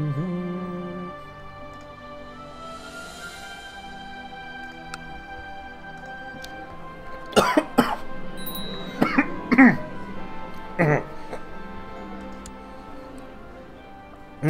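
A man coughs several times in short, sharp bursts while a game of Crusader Kings 2 plays with quiet background music and a ticking sound, with a throat clear among the coughs.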